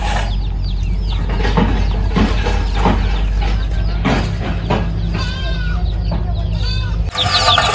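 A hen clucks repeatedly nearby amid chick peeps and other farm animal calls, over a constant low background hum.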